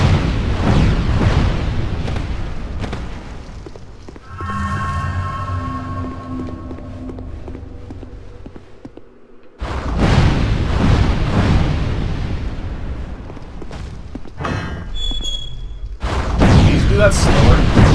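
An enemy in Dark Souls 2 spits fire, producing loud roaring, explosive bursts that come in waves with brief lulls and a near-silent gap between them.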